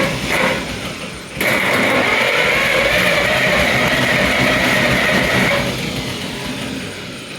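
A 1000 amp jump pack tries to crank a Ford Falcon engine: a steady mid-pitched mechanical cranking drone starts abruptly after a second, holds loud for several seconds, then eases off without the engine catching.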